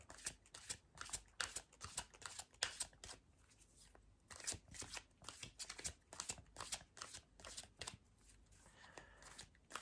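Tarot cards shuffled and drawn for a one-card reading: rapid riffling bursts and slaps of card stock, close and fairly quiet, coming in uneven clusters with brief pauses between them.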